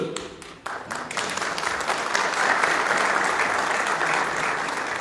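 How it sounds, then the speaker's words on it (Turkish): Audience applause at a Bodrum political candidacy speech: dense, sustained clapping from a large crowd that swells after a brief opening pause and holds steady and loud to the end. "Dolayısıyla alkışı da sizden almak istiyoruz."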